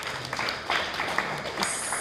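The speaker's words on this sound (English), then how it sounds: "Can we clap for them?" An audience at a tech-preneurship bootcamp final applauds, a soft, fairly distant wash of many hands clapping for about two seconds.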